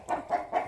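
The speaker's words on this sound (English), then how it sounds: "Besides some annoying chickens." Farm chickens clucking nearby, three or four short rhythmic clucks in quick succession, fairly faint, with no voices.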